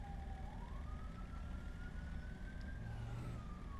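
A video game ambulance siren wails in a slow rising and falling tone, faint and distant over a low rumbling background, with no talk.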